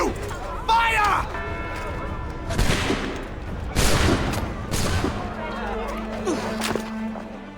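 Musket volley in Assassin's Creed III, a few loud cracking bursts of massed shots spaced seconds apart, with shouting voices before and between them.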